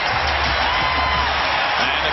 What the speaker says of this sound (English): Crowd fired up, double-figure lead.